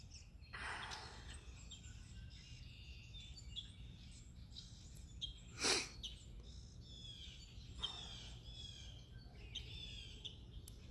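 Birds chirp and call around a pond outdoors, with scattered bright tweets and short squawks over a quiet background, one sharp louder call standing out midway.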